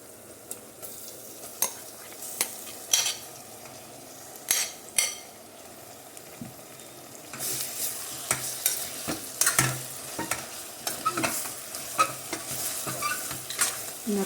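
Marinated mutton, methi leaves and onion stir-fried in oil in a pan, with a steady sizzle under repeated scraping and clinking strokes of a spoon, growing busier and louder toward the end.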